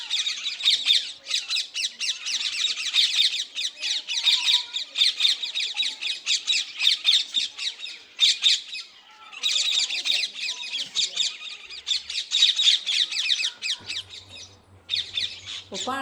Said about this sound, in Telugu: మా ఇంటి పక్కన పక్షులు ఫుల్ అరుస్తున్నాయి.